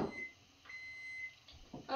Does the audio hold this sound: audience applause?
no